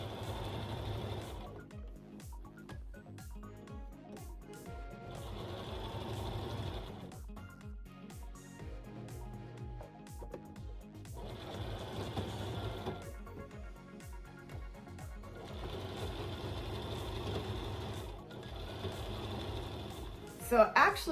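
A sewing machine stitches trim onto a fabric bag in a steady, rapid mechanical chatter that speeds up and slows in bursts, with a person talking over the running motor throughout.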